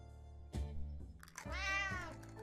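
A cat in the survival video game 60 Seconds gives a clear drawn-out meow after a short lower mew, close and alone over a faint steady game background.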